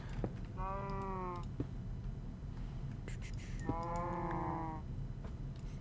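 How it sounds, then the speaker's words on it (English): A video game cow moos twice in long, drawn-out calls separated by a short pause, set against a low steady background hum. "Here the cow's mooing."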